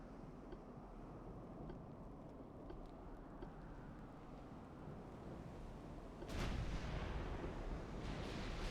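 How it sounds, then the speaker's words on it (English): Battleship main guns firing in the naval combat game Ultimate Admiral Dreadnoughts, a low rumbling bed of distant artillery that swells into a heavier, louder boom near the end. "we have, of course, switched our main guns to fire at the destroyers"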